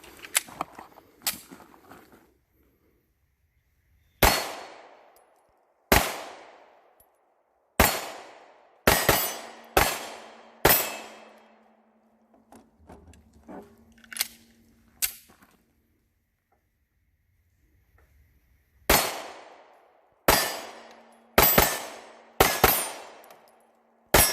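A Springfield Armory Hellcat and a 365 pistol fire Federal 124 grain HST rounds at a shooting range, producing loud, sharp single shots that come in uneven clusters with quiet gaps, each followed by a brief ringing decay.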